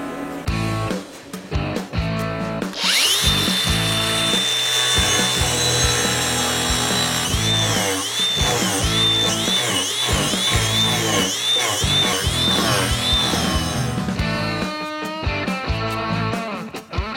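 A power saw cuts through wood for a seat, throwing sawdust. It gives a loud, sustained whine with a wavering pitch as the blade bites into the workpiece, close-up and continuous for about ten seconds, with the motor spinning up and then down.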